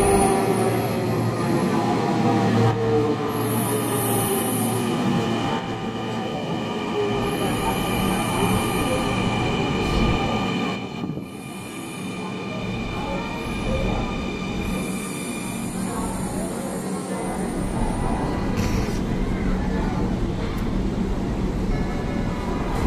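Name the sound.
inside a moving Dhaka Metro Rail train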